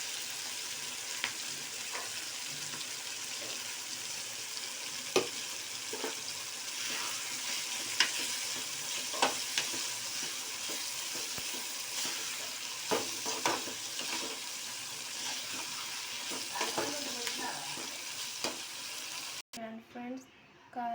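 A coconut, coriander and ginger paste frying and being stirred in a pan, a steady close sizzle with intermittent scraping stirs.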